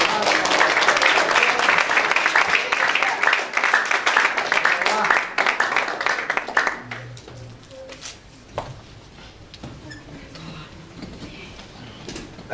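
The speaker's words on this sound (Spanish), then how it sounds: "Dale un aplauso al Rey" Church congregation claps loudly and steadily during a family service, the applause fading out about halfway through and leaving quieter room sounds and faint voices.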